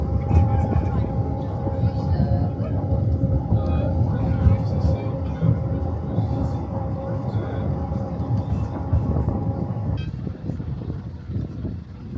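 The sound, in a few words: Snowdon mountain railway train passing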